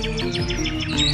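Birds chirp in repeated quick, rising tweets over a low steady background hum, several bright calls following one another in a lively, continuous pattern.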